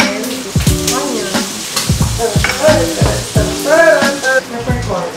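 Garlic and onion sizzling loudly in a hot pan for adobo, with a constant frying hiss and repeated scraping stirs of a utensil against the pan, close up, with faint voices underneath.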